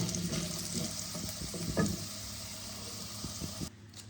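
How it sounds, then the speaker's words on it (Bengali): Potatoes fry in oil with turmeric for a Bengali fish-head cabbage dish, giving a steady close sizzle with light stirring clinks before cutting off abruptly. "এবার ভালো করে লাল লাল করে ভেজে নেব।"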